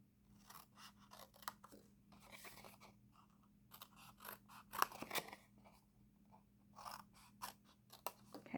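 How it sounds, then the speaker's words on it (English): Scissors cut a square out of card stock in a series of soft, close snips and crisp crunches, with short pauses between the strokes. "So now you want to cut here this square off."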